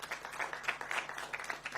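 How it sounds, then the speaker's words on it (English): Faint, distant applause at the Cannes Film Festival for actress Deepika Padukone, a brief patter of clapping heard from afar under a low steady hum. "A big round of applause for Deepika."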